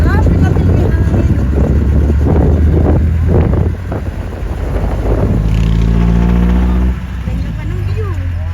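Loud rumbling jeepney engine with heavy wind buffeting the microphone during an open-air ride, a voice talking over it at times.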